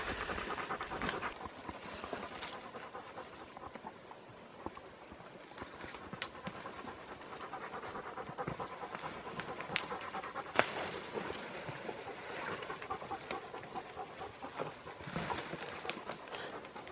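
Hunting dogs panting steadily and continuously outdoors, close by, with faint hoof-like footsteps and movement in the background.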